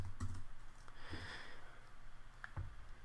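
Faint keystrokes come from a computer keyboard as a line of Swift code is typed. Scattered taps and short bursts of clicks sit over a low room hum.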